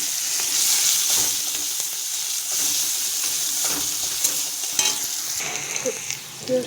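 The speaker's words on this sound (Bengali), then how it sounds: "এবার আমি তার মধ্যে পেঁয়াজটা দিয়ে দেবো।" Chopped onions sizzle steadily in hot oil left from frying fish for a mixed-fish jhal curry, a dense, close hiss with a few soft stirring knocks and no talk.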